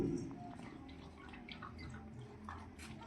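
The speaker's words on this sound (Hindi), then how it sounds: "पानी पी लिया इसने" A three-month-old German Shepherd puppy laps water in soft, faint, irregular wet splashes and drips, heard quietly with no clear talk.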